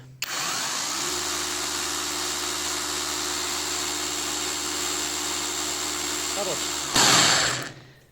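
A WOSAI cordless rotary hammer drill runs free with a steady, loud whirring motor whine for several seconds, then revs briefly higher before spinning down.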